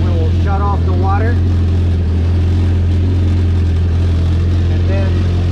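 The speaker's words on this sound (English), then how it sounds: "After 5 minutes of running, your engine got to operating temperature." A Yamaha Waverunner GP1800R with a 1.8-litre engine runs steadily at operating temperature, a loud constant low drone close by with brief voices over it.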